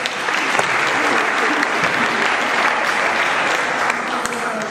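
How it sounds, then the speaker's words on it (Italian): Audience applause at a road safety event in Chioggia, a steady, dense wash of many hands clapping throughout, loud and even from start to finish. "Un applauso per Michela!"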